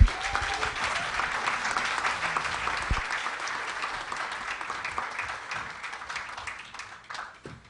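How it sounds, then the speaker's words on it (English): A church congregation applauds its graduating seniors right after a prayer, a steady dense wash of clapping that gradually thins and fades over several seconds. "You guys can clap for them."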